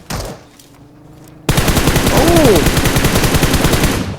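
Rapid automatic gunfire rattles loudly and continuously from the PUBG Mobile video game, kicking in abruptly after a brief quieter stretch and holding steady to the end.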